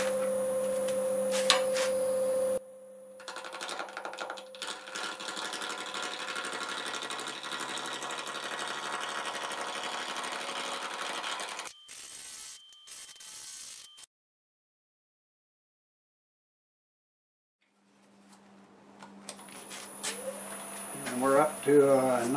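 A wood lathe spins at about 725 RPM while a segmented sphere is turned between cup centers. Its motor gives a steady whining hum, with voices at times, then cuts out into a few seconds of silence before the hum returns.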